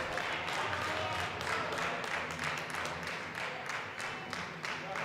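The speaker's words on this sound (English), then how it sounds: "you can pick up the crowd on our microphones" A crowd at a powerlifting competition applauds steadily with continuous clapping, moderately loud and diffuse, with voices murmuring underneath.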